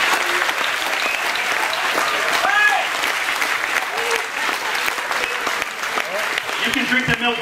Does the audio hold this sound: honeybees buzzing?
no